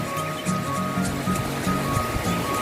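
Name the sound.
sea waves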